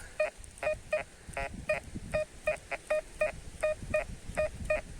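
A Tesla Pro Max metal detector gives a steady series of two-tone electronic beeps, about fifteen in all, spaced evenly over faint rustling and handling noise in open ground.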